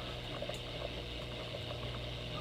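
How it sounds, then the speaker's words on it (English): A Fluval EVO 13.5 aquarium's pump runs again, keeping water circulating in a steady, soft bubbling and gurgling wash with faint small pops, and no voices. "the pump is back on, so we got water circulating in the tank"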